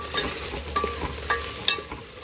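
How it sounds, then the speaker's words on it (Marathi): Sliced potatoes and onions frying in a pan for a dried Bombay duck curry are stirred: close, steady sizzling with scraping and soft clinks of the spoon, and a brief sharp tap near the end. "आता आपण ह्याच्यामध्ये आपली कापलेली पटॅटोज टाकूया आणि यांना चांगल्यापणे शिजवून घेऊया. आता आपण चांगलं मिक्स करू"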